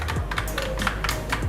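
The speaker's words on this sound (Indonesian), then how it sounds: "feedback yang diberikan keyboard ini juga mengingatkan kita dengan mesin tik jadul" Quick run of clacky keystrokes on a Logitech Pop Keys mechanical keyboard, close and fairly loud, typing in a brisk uneven rhythm over a faint low hum.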